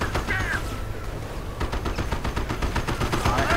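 Gunfire in the World War II strategy game Company of Heroes, with rapid bursts of shots crackling in quick succession, loud and close, and no speech over it.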